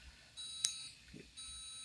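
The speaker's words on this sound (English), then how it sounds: "it will stop and give you one solid beep and stop" A 2020 Alante 27a motorhome's leveling jack system sounds a high electronic tone once its cycle is done, with steady beeping around a sharp single peak, fairly clear over a quiet background.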